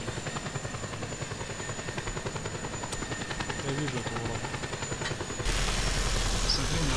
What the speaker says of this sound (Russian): Взял какой-то вертолет, короче.